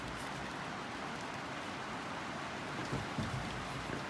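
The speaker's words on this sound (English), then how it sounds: "enjoy the rain." Steady rain falls outdoors as a continuous soft hiss of drops on surfaces, even and moderately faint, with a few slightly louder patters near the end and no talk.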